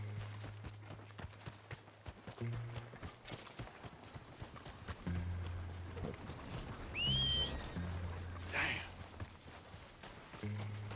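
Horse hooves clip-clop and gallop across open ground in the video game Red Dead Redemption 2, a steady rhythmic beat under low game ambience, with a brief whinny-like call partway through.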